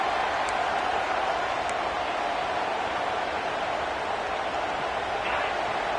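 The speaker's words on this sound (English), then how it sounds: "Listen to this crowd just shaking the girders of this place, trying to help their defense." A big football stadium crowd roars in a steady, continuous wash of noise, loud and distant, as fans shout to help their defense on third and long.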